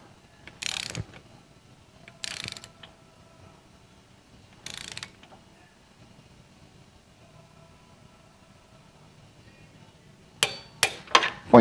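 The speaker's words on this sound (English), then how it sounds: "I do torque them down" A torque wrench tightening bolts on a 1979 VW Super Beetle, with three separate bursts of rapid ratchet clicking, close and clear against a quiet background, then a quick cluster of sharp clicks at the end.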